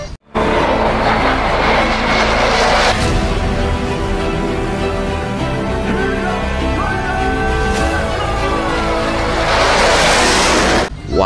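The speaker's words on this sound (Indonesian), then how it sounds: "Ini pesawat tempur." A green toy fighter jet gives off a loud electronic jet-engine roar close by, holding steady for about ten seconds with warbling tones before cutting off.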